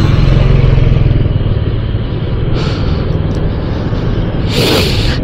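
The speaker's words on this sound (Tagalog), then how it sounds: "ang pipe ko pala to Brothers Racing Exhaust. Ayan, maganda tumunog yan," Voge 525DSX motorcycle fitted with a Brothers Racing exhaust, idling with a deep bassy rumble that holds steady, with two brief throttle blips rising near the middle and at the end.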